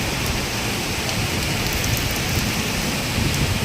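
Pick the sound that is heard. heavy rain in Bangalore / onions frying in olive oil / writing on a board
heavy rain in Bangalore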